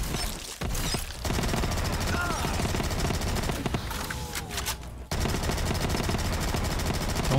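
Sustained rapid gunfire from a Black Ops III custom zombies map, a dense stream of automatic shots running almost unbroken across the clip with brief gaps, loud and close.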